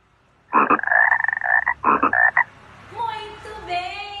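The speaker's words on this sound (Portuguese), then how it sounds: "Se você disse que era um sapo, você acertou" A frog croaks close and loud in two long, rattling pulsed bursts, followed by fainter higher chirping calls.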